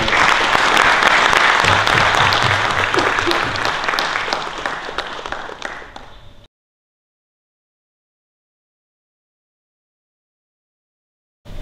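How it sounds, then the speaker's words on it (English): A crowd at a photography week talk in Hyderabad gives a big round of applause, dense and loud for about six seconds before it cuts off abruptly into silence. "Why don't we give them a big round of applause?"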